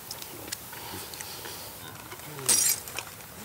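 At an outdoor hunting camp in Namibia, a hanging water bag falls and a glass cola bottle breaks in one sharp, brief crash amid ambient noise and people talking.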